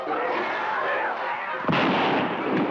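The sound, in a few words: gunfire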